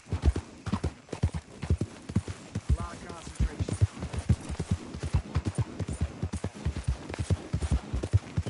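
Horse hooves clip-clop in a steady, brisk rhythm close by, with an occasional faint whinny and voices talking over the hoofbeats.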